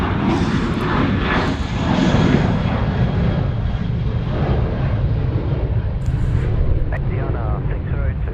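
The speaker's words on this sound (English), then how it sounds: "Asiana cleared for takeoff." A steady, loud roar from an Asiana airliner jet taking off at Sydney Airport fills the whole stretch, with some wind buffeting and no clear breaks.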